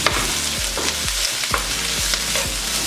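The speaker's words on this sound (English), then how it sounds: "So while this is sauteing" Shrimp scampi sautés in a hot pan with a continuous sizzle, while a utensil stirs and scrapes in a steady rhythm about every half second, close up and without talking.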